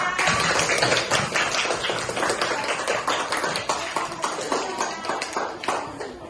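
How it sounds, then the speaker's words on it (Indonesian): Pupils in a classroom clap together after a correct answer, a dense, steady patter of many hands held at close range for several seconds, with no talking over it. "Ya, betul, tepuk tangan."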